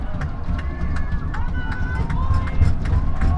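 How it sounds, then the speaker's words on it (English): Football fans at a high school championship game stomp on metal bleachers, a dense rumbling thunder of rapid irregular thumps with sharp clanks, heard steadily under a commentator's talk. "I don't know if you can hear the Bulldog faithful stomping those metal bleachers"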